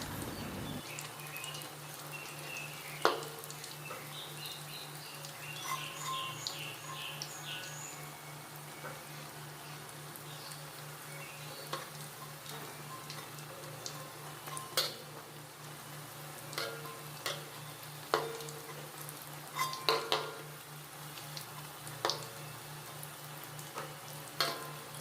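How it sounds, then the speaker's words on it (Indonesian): Indonesian corn fritters frying in hot oil in a pan, a steady soft sizzle with scattered small pops and crackles that runs on for a long stretch without any talk. "Kita goreng hingga warnanya kuning kecoklatan ya guys."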